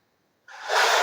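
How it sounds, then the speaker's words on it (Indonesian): A man gives a single short, breathy cough close to the microphone, bursting out after a moment of silence. "Maaf nih, agak batuk."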